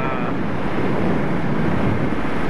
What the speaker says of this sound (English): Man, it's windy in my face right now.